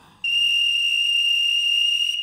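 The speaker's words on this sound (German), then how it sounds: "Wer pfiff denn da?" A single sustained, pure whistle tone starts abruptly and holds steady and loud without a break to the end, with no talk over it.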